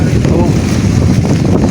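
Strong wind after rain and flooding roars and buffets against the microphone, a loud continuous rumble with gusty surges throughout.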